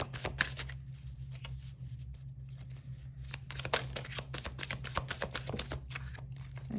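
Tarot cards handled close up during a reading: quick papery flicks, slides and soft snaps as cards are shuffled and drawn one by one, over a faint low hum.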